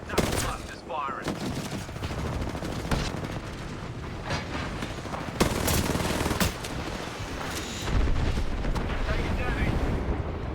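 Dense video game combat with rattling automatic gunfire and knuckle cluster explosions, loud and continuous with heavier blasts near the middle and end, while players talk over the fighting.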